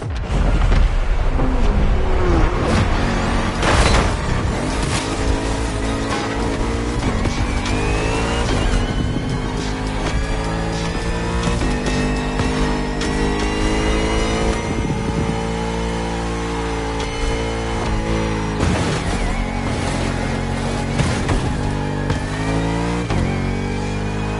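The Bugatti Vision GT driving in The Crew Motorfest, its engine roaring loud and close throughout, revs climbing and falling through repeated gear shifts, with brief tire squeal.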